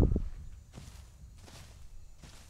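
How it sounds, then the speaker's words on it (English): Footsteps in The Isle, a dinosaur survival game: a few spaced, soft thuds that rustle like steps on brush, fairly close, with no talking over them. "Yep, I can hear your footsteps."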